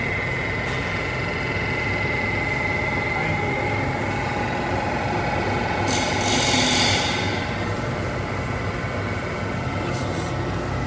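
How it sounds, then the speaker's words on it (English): A Cincinnati 220-8 centerless grinder runs with a steady, dense mechanical drone and a faint high whine from the grinding wheel, close and continuous with no speech and only a brief rise in hiss midway. "you have to hold this way and then hit the grinding wheel start. And then it'll start."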